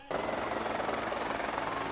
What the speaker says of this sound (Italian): sul posto arriva perfino l'elicottero